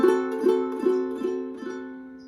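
A ukulele chord strummed five times in an even rhythm, each strum ringing briefly before the next, close and clear.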